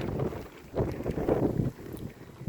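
Wind gusting outdoors beside a house where plastic sheeting is held down with bricks, buffeting the microphone in rough, uneven surges, with no voices.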